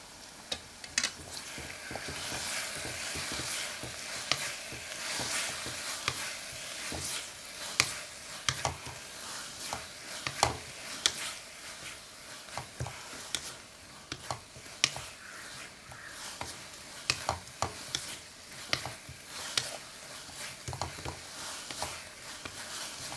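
Ash gourd halwa with ghee being stirred in a pan, a soft sizzle under repeated scraping and tapping clicks of a spoon against the pan, quiet and close, with no voices.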